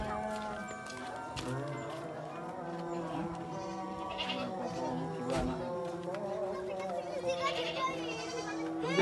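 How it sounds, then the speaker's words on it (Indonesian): A goat bleats several times in wavering calls, close by, while children's voices chatter and play around it during a family Eid gathering. "Ada mbek, Dek."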